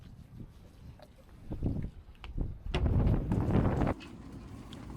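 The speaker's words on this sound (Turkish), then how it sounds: "Ama burada da felaket rüzgar var." Strong wind sweeps across Molina bay at Ayvalık, buffeting in low rumbling gusts that swell to a loud, sustained roar for about a second before easing back to a steadier blow.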